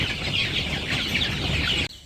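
A flock of village chickens clucks and chatters continuously while eating their feed in the morning, a dense, close layer of overlapping calls that stops abruptly at the end.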